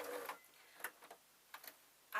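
A sewing machine on a long stitch length sews through felt, giving soft, sparse clicks and short mechanical bursts, quiet and close, with pauses between runs.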